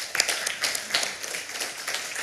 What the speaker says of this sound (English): I would like to ask for a big round of applause for our...